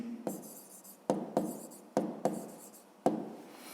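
A pen writing an answer on paper, a series of short scratchy strokes in irregular bursts, each starting with a sharp tap and trailing off, close and fairly quiet with no talking.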